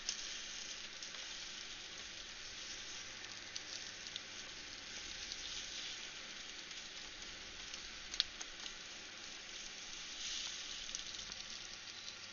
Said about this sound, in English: I need to flip that egg. I think my frying pan is slightly too hot.